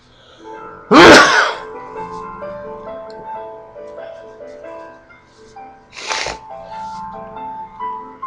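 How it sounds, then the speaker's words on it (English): A single loud, explosive sneeze bursts out near the start, followed a few seconds later by a second, quieter sneeze-like burst over faint background sounds. "excuse me, I have to sneeze"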